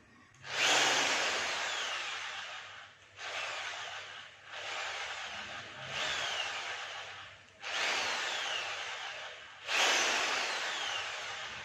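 An Orion HD600S 13mm impact drill whirs at low speed in repeated bursts, each run rough and uneven, stopping and restarting about six times; loud and close.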